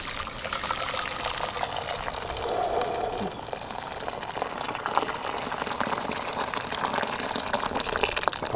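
Boiling water from a kettle pours steadily over a Renault Megane RS 250 car thermostat, a continuous splashing trickle with a brief quieter dip partway through.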